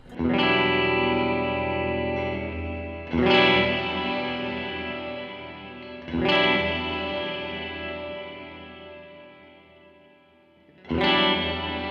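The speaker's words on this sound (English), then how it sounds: "this is a little bit, for lack of a better word, a slow reverb. It has a slow buildup of it." Electric guitar through a Line 6 Helix on firmware 2.60 with a slow-building modulated reverb: four strummed chords, each swelling into a long shimmering wash that slowly fades before the next strike.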